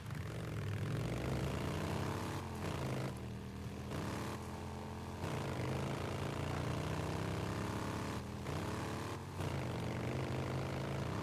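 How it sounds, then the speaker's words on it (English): A powerful aircraft engine roars in the video game Days Gone, a steady loud propeller drone with a fluctuating tone that briefly dips a few times, continuous throughout with no voices. "That is a hell of an engine on that thing."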